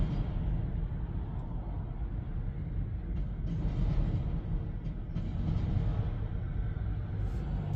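A slow CSX freight train rumbles by at close range in Emerson, Georgia, with wagons clattering and a continuous heavy low rumble throughout, with no voices.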